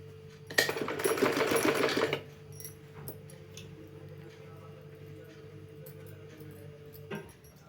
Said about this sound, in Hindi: और इस तरह हम सिलाई डालते जाना है हमें